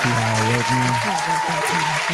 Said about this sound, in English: I'm give a clap for him.